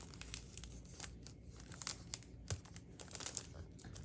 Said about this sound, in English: I'm just going to tie a knot.